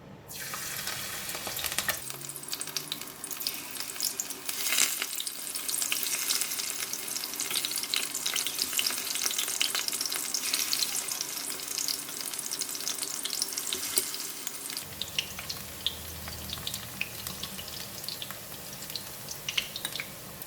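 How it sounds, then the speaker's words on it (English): Watercress tempura fries in hot oil, a dense continuous crackling sizzle holding for about twenty seconds with a brief bubbling burst near the start and a slight shift in texture toward the end; no one speaks. "So for the next batch, I'm going to fry it one by one."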